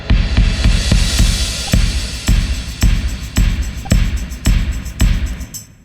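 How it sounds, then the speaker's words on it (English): A sampled drum kit plays alone in a session mix: heavy kick hits keep a steady pulse while cymbal swells wash bright and loud across the top, close and dense for about six seconds. "all the percussion together kind of sounds like this"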